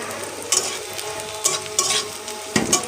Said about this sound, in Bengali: আবারও আসলাম পেঁয়াজটি নাড়াচাড়া করার লেগে।